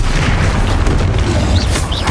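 Bombarda spell explosion in Hogwarts Legacy lands as a heavy, loud boom with thick low rumble and scattered crackling, continuous through the short burst.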